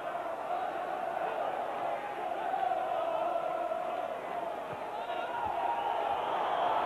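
A frustrated football crowd at a 1993–94 Norwich City vs Manchester United match keeps up a loud, rolling roar that swells and dips, with a commentator talking over it.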